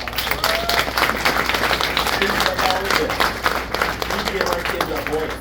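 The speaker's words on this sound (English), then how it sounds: "So can we give them a round of applause?" Audience applause at a San Jose Unified school board meeting, a dense, steady wash of many hands clapping at close range with scattered cheers, holding strong for the whole stretch.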